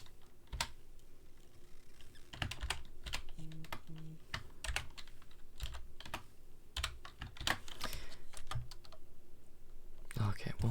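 Someone types a password on a computer keyboard in irregular bursts of close, crisp key clicks with short pauses, a faint voice murmuring at times.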